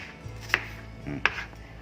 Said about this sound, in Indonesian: Selanjutnya bumbu-bumbunya berambangi langsung diiris